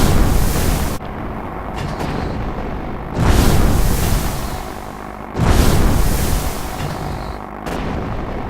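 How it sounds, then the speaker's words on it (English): Heavy artillery explosions in a naval air raid come as loud, rumbling booms. Several bursts land about two seconds apart over continuous low roaring fire, with no voices. "Incoming barrage"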